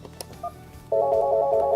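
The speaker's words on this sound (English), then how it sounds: "dialing the number in" Keypad tones from a Polycom VVX 411 desk phone begin after a couple of faint clicks. A loud, steady dialing tone sounds close and continuous through the second half, with no voices.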